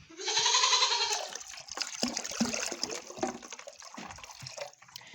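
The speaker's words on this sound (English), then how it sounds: "Then I'll add some warm water as well." Warm water pours and splashes into a container for farm animals during an ice storm, a rushing stream at first that breaks into gurgles and drips.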